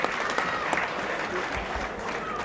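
Steady, distant clapping rolls from the Hull FC rugby league supporters at the Warrington match, a broad stadium round of applause with a low murmur of crowd noise.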